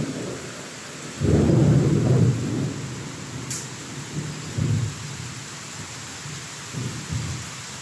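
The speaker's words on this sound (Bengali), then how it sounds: "তো আকাশে অনেক গর্জন হইতেছে, তারপর হচ্ছে গিয়ে বিদ্যুৎ চমকাইতেছে।" Thunderstorm with heavy rain, loud rumbling thunder bursts rolling through about a second in, then fainter rumbles recurring over a steady wash of rainfall, with no voices.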